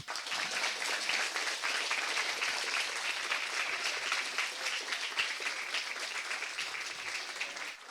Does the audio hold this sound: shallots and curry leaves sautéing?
no